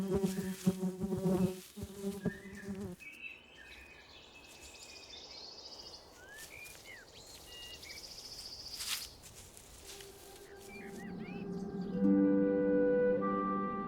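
Wild bees buzz in a flower-rich meadow, a steady faint drone with passing insect whines, scattered birdsong and a louder humming swell near the end.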